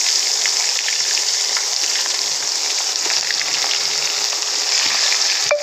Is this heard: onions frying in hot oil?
yes